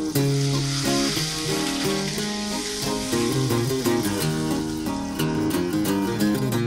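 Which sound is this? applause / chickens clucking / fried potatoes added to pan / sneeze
fried potatoes added to pan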